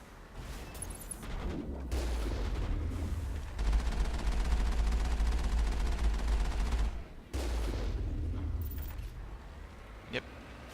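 Sustained automatic gunfire during a firefight in Mass Effect 1, loud rattling bursts for several seconds, then a brief gap and more shooting, with a voice talking around it.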